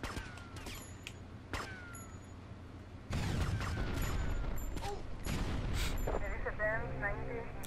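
Gunfire in the Grand Theft Auto: Vice City video game, sharp repeated shots and booms over a busy game soundscape with a voice talking, growing louder and denser halfway through.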